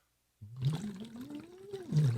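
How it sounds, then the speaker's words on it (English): Bubbling, gurgling blow through a Dr. Vox straw into water as a singing exercise, a single continuous phonated stream with a rising and falling voiced hum, close and fairly loud after a brief silence. "So this Dr. Vox is a straw that actually has water"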